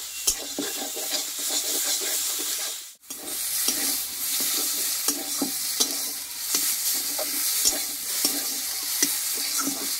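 Ground pumpkin leaf paste fries gently over a low flame, giving a soft steady sizzle broken by repeated scraping stirs of a utensil in the pan, with one brief pause.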